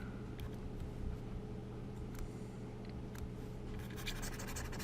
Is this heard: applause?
no